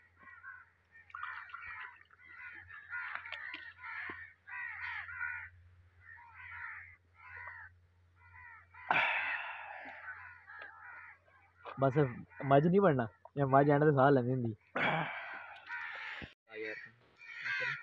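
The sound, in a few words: crow cawing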